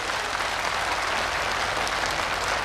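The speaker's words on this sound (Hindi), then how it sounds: "जोरदार तालियों के साथ" An audience applauds at a public function at Beerwah, loud and dense clapping that runs steadily throughout without a break.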